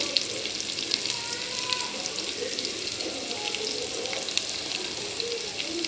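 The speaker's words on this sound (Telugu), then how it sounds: "పలావ్ కానీ బిర్యానీకి కానీ ఆనియన్ ఎంత మంచిగా మనం ఫ్రై చేసుకుంటే అంత మంచిది" Onions sizzle in a pan for chicken pulao, a continuous even hiss with faint scattered crackles throughout and no talking.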